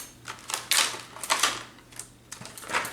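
Cardboard and plastic packaging of a 1990s ToyBiz X-Men Archangel action figure being ripped open, a run of sharp crinkling tears and scrapes in uneven bursts, close and fairly loud, with no talking.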